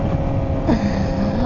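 A 2017 Suzuki GSX-R750 motorcycle with a full Toast aftermarket exhaust system and Toast ECU flash runs with a loud, steady engine drone, a short rising note in the middle, heavy wind buffeting the microphone.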